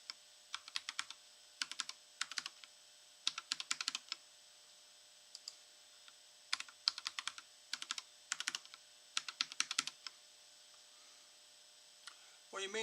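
Someone types a password on a computer keyboard during a Linux Mint Cinnamon install, with short bursts of close, crisp key clicks separated by pauses.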